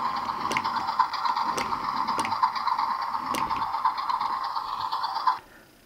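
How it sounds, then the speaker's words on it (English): Transformers Armada Scavenger toy's off-center scoop mechanism being moved: a continuous close ratcheting, gear-like clicking whir with sharper clacks every second or so, running steadily for about five seconds before stopping abruptly. "when you move this forward, it has a little off-center circle so that this little scoop can lift up and down"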